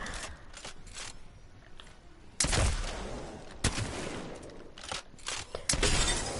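A shotgun is fired in rapid double-pump succession in the video game Apex Legends, with loud, sharp blasts coming close together amid scattered gunfire and combat noise.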